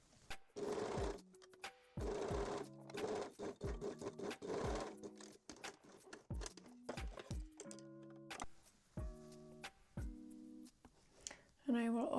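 A sewing machine stitches a bikini top strap in short, start-stop bursts, close by, with brief pauses and some handling clatter between runs.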